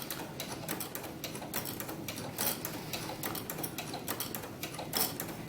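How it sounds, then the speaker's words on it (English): A sewing machine fitted with a ruffler foot rapidly stitches organza, giving a fast rhythmic clatter of needle strokes that is quiet and steady throughout, with no voices. "So let's go ahead and start sewing."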